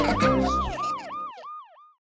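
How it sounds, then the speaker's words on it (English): A cartoon ambulance siren wails, cycling up and down in quick repeated swoops, loud at first, then thinning out and fading to silence. "Thank you, Pororo ambulance"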